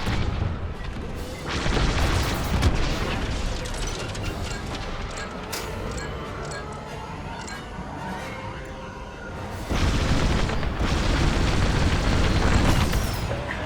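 Bombers blow apart in the Star Wars Squadrons video game: loud, booming explosions burst out near the start and again later, with heavy rumbling in between.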